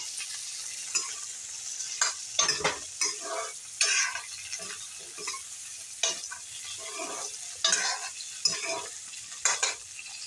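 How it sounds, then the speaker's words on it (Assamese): Potatoes frying in hot oil while a spatula stirs them, giving a soft sizzle broken by repeated scraping and tapping strokes against the pan, close and steady, with no talk. "এইদৰে অলপ সময় ভাজি ল'ম।"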